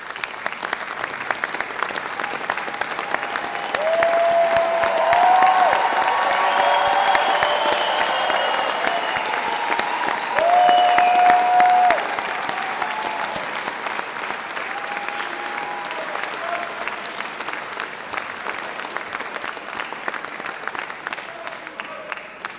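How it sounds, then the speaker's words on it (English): Graduates applauding together at a university graduation ceremony for the Faculty of Computing, Engineering and the Built Environment, a sustained, dense round of clapping from a large crowd that swells and holds for many seconds. "join me in giving them a round of applause"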